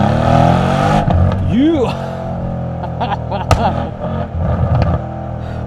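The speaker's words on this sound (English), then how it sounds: "Simply put this AMG into Sport Plus mode and you decide to mash the throttle" A 2020 Mercedes-AMG C63 S V8 in Sport Plus mode accelerates hard around a roundabout, engine rising loud and near with a rising rev sweep, while someone talks over it.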